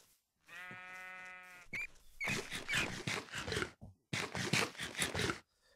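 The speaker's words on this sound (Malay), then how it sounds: "Aku rasa aku tak boleh bunuh kambing ni." A goat bleats in the Minecraft game, with a drawn-out tonal cry near the start followed by scraping, rustling in-game noise and further short bursts.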